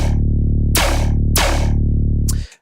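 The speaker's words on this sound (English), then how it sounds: "go to any other sound like this Marauder style gun bass" Marauder-style gun bass synth patch in Phase Plant holds a thick, loud sustained bass tone, punctuated by two sharp noisy gunshot-like bursts and a softer third before cutting off, with no talk.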